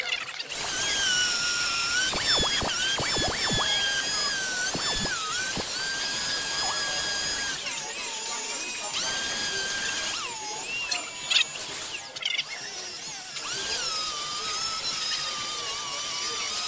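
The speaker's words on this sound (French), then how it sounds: "L'avant de la platine décrit une courbe qu'il faut récupérer en limant la boute." A hand file working the front of a hockey skate blade holder, producing a sustained, close scraping and whining grind with brief bursts of sharp strokes early on and no talking.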